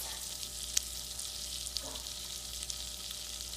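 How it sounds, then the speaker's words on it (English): Butter and olive oil heating in a pan for creamy garlic shells give a steady, faint sizzle throughout, with a couple of small ticks and no talking. "I have my butter and olive oil heating up in the pan"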